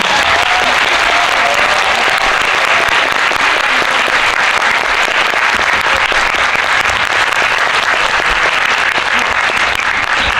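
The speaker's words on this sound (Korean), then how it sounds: "마지막으로 함께 해주신 게스트 여러분들께 큰 박수 부탁드립니다." Loud, sustained applause from a theater audience for the guests at a special cine-talk after a film screening, dense clapping filling the hall steadily from start to finish.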